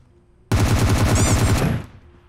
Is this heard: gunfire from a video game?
yes